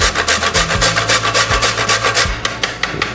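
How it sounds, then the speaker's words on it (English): Fresh whole nutmeg scraped over a grater for carrot cake batter, a quick steady series of dry rasping strokes, close and loud, about a dozen even back-and-forth rubs with no talking. "I'm just gonna grate in a little bit of fresh nutmeg"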